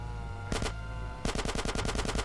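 Bursts of gunfire in GTA San Andreas: one short double burst, then a rapid string of about ten loud shots like a machine gun, over a steady game background.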